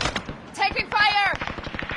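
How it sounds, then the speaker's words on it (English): A quick burst of video game gunfire, a few close cracks lasting under two seconds, mixed with announcer-style voice lines and other game effects. "Taking fire."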